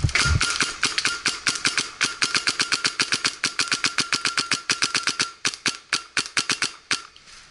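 Paintball pump gun firing again and again at an outdoor paintball park, a rapid string of sharp cracks repeating steadily for the whole stretch with no voices.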